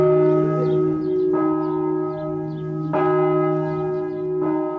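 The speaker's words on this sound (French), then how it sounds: "C'est la cloche des perdus, donc, qui sonnait tous les soirs à 6h30 quand il faisait mauvais temps pour rappeler les pèlerins égarés." Church bell known as the bell of the lost, once rung on bad-weather evenings to guide lost pilgrims, struck about four times at a steady pace, each strike clear and loud with a long, resonant hum lingering between them.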